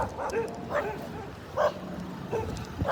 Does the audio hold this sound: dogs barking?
yes